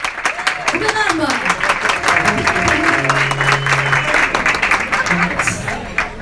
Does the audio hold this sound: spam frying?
no